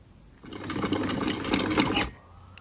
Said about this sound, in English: probably should have clipped the corners before I sewed the lower seam together